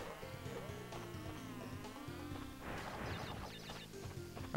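Bees buzzing in the video game Crash Bandicoot 2: Cortex Strikes Back, a steady insect drone blended into busy game music and effects, continuous throughout at moderate level.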